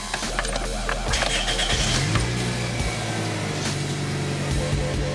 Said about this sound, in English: Let's go ahead and fire up the car here